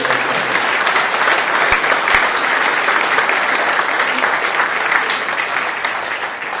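An audience at a fruit festival gives a round of applause for the hardworking chapter members. The clapping is thick and continuous from many hands, holding at an even, fairly loud level throughout and easing slightly near the end.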